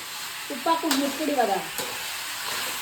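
Chicken pieces frying in a pan for chicken gravy, giving a steady close sizzle with a few stirring scrapes and clatters in the first half.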